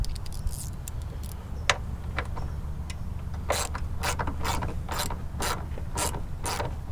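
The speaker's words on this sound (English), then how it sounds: "you can see I've got an 8mm socket here and a 5/16" A ratchet with an 8mm socket loosening small headlight bolts on a 2011 Lincoln Town Car, making quick clicking bursts, first sparse ticks and then a run of regular ratchet clicks, close and clear with no speech.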